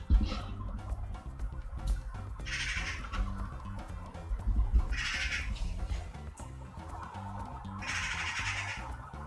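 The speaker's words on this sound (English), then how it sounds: "There's a very noisy bird outside." Noisy bird squawking outside, harsh raspy calls repeating about every three seconds, somewhat distant and muffled against a low background hum.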